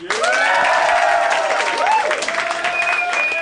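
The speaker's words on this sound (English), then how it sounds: "Applause on 3." A studio audience bursts into sustained applause on cue, a steady broadband roar of clapping that holds at full level for the whole stretch, with a few voices and whoops mixed in.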